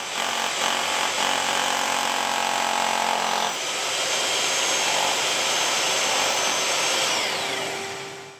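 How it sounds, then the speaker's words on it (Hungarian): A 1500W SDS Plus Graphite hammer drill bores into a hollow ceramic brick with an 8 mm then 10 mm bit, giving a loud, steady, gritty grinding whine that drops in pitch partway through and carries on alone to the end. "A 10 mm-es tiplik számára először 8, majd 10 mm-es fúróval fúrtam."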